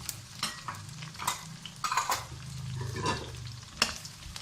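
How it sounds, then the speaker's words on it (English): Onions and a whole piece of ginger fry in a pan for chicken pepper dry, with a continuous sizzle broken by repeated spatula scrapes and metallic clinks, close by and without speech. "And then put the onions, the 3 onions that we had taken for this."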